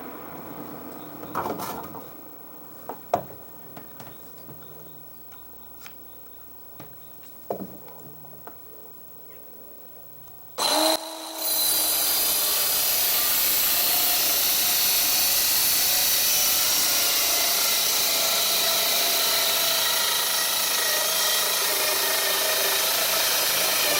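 Battery-powered circular saw cutting timber during house building: a few knocks and handling clicks, then the motor starts abruptly and screams loudly and steadily for over ten seconds.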